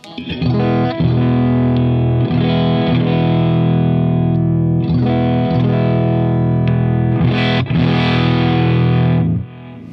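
An Ibanez GIO GRX70 electric guitar played through an overdriven amp, thick distorted chords ringing out continuously and loudly with brief changes between strums, no voices.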